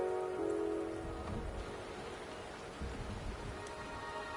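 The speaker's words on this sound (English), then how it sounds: "The rain is subsiding, and the sky will soon clear." Steady rainfall in the video game Wuthering Waves, a soft continuous hiss of drops pattering on surfaces, fairly quiet and even throughout with a faint musical tone near the start.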